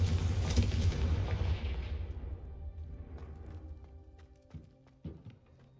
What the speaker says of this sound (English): a Confringo cast travels a bit farther than that of a spell like Incendio